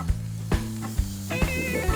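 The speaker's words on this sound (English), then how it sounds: "So let those start to cook off and sizzle away." Spaghetti noodles sizzle on a hot grill with a steady hiss, punctuated by regular low thumps about every half second.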